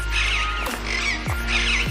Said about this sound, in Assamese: এইটো ভাটৌ চৰাই মাত বহুত ভাটৌ আছে